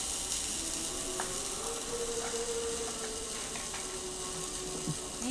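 Sukto vegetables sizzle in a pan as water is poured in, giving a steady bright hiss that carries on without pause, with soft stirring scrapes and no voices.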